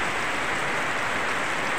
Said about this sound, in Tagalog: dinalaw tayo ng ulan